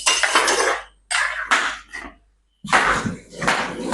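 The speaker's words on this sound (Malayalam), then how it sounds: "നമുക്ക് ഇതൊന്ന് ഇളക്കി കൊടുക്കാം" Metal utensil scraping and clattering against a pan while stirring prawn roast, in several loud bursts separated by short pauses.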